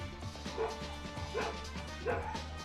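Dogs barking indoors, a few separate woofs and yips about every three-quarters of a second, fairly close and moderately loud over a low steady hum.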